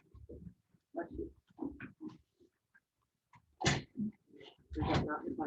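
A sneeze breaks through a classroom during writing time, a sharp loud burst following scattered quieter talk and noises, with a second strong noisy burst close behind it.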